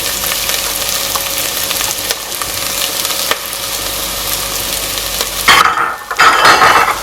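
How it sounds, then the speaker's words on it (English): Onions fry in a pan while cooking crayfish rice, producing a loud continuous sizzle with stirring scrapes and a sharp surge and brief dip near the end, with no talking. "So in goes my onions."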